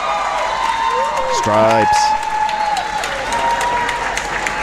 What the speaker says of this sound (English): Pretty loud here with the cheering going on.